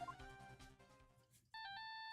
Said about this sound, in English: That damn ringtone.